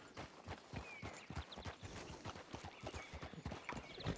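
Horse hooves in the RedM western video game, a quick steady clip-clop of galloping strides, close and fairly quiet, with no talk over them.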